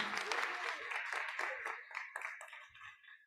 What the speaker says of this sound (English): just another round of applause for our Wilson chorus here and their teacher